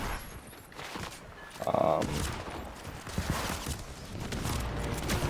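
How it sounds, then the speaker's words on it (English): In Fortnite, a combat shotgun fires a quick series of sharp blasts amid in-game footsteps and clatter. The shots sit under a player's voice and are close and moderately loud. "God, I forgot how crappy the combat shotgun was"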